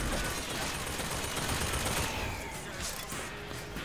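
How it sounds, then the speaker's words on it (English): Dense, continuous automatic gunfire fills a Bioshock Infinite firefight, loud and sustained throughout with no pauses. "Oh, you are shooting me"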